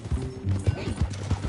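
Video game sound: rhythmic clip-clop of a horse's hooves at a steady trot, close and clear, with faint talk underneath.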